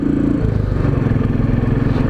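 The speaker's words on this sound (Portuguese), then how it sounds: "E esse som dessa moto aqui é muito gostoso, muito bom." A Royal Enfield Classic 500 single-cylinder engine thumps steadily on an uphill climb, a deep, loud, pulsing low rumble heard up close from the rider's position.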